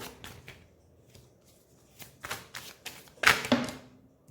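Tarot cards drawn and handled from a deck, giving a series of soft papery flicks and slides that build to a louder snap near the end, close up with no talking.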